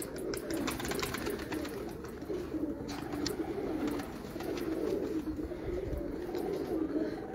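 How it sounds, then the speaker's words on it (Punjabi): Pigeons from a fancier's loft coo steadily and continuously close by, a low throaty murmur layered from several birds, with occasional faint chirps over a constant background hum. "ਇਹ ਰਾਣਾ ਸਾਹਿਬ ਨੇ ਕਬੂਤਰੀ ਦਾ ਸ਼ੌਕ ਕਰਾਇਆ ਸੀ"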